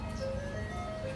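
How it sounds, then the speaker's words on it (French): An ice cream truck rolls through a residential complex, its tonal chime melody drifting over a low steady engine rumble, heard at moderate distance without talk. "Il y a le camion de glace qui passe dans la résidence"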